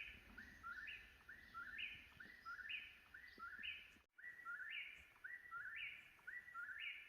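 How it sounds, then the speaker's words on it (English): A bird sings a repeated, rhythmic chirping phrase over and over in the woods on an Appalachian Trail morning, clear but fairly soft against a quiet background, with one brief break in the middle. "That's an amazing bird. He's been going at it for over a minute."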